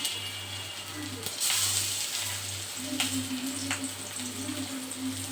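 Fritters made from fish oil frying in a small amount of oil in a pan, with a steady close sizzle and crackle running throughout, while a low electrical hum drones underneath.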